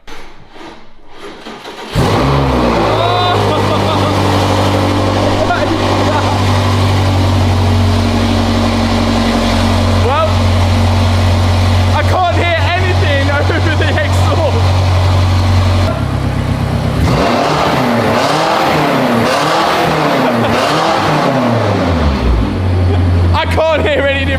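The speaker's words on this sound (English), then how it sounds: "now that we've got the coolant in, we can actually run this car to temperature and give it a few revs as well" A rebuilt, previously wrecked BMW M5 Competition engine starts and settles into a loud, close idle, then is revved several times in rising and falling surges.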